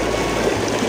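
Water rushing steadily inside a waterfall, a continuous broad wash close by with no clear breaks over a brief moment.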